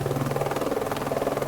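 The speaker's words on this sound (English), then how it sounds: "the helicopter was arriving to take us high up onto the glacier" A helicopter arriving at Fox Glacier on New Zealand's South Island gives a loud, steady rotor thump with a droning engine hum, close by and unbroken, with no talking.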